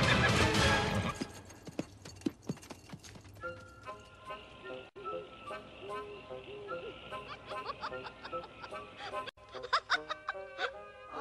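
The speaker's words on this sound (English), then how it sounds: "Horse, don't move." A cartoon horse whinnies and hooves clip-clop, mixed with laughter and lively voices, the animal sounds tangled among chattering talk and music-like tones.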